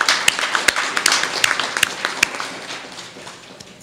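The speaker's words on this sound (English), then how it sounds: "Please join me in a round of applause to thank these people for their efforts." A modest audience at the 2018 grand opening of Rocky Mount's Business Services Center claps in loose applause, with a few sharp, distinct hand claps standing out over softer clapping that gradually fades.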